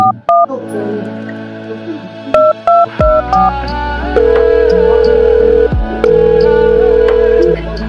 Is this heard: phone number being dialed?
yes